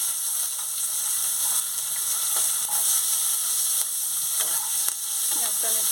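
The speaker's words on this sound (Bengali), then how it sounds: "পেঁয়াজটা আমি একটু ভালো করে ভেজে নেব।" Chopped onion frying in oil in a pan for a Bengali Rupchand (pomfret) fish curry, a steady close, loud sizzle and hiss running throughout with a few soft stirring scrapes and no talk.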